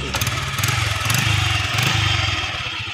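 A motorcycle engine runs close by with a pulsing low throb that rises and falls slightly, as if idling with light revs, and faint clatter over it.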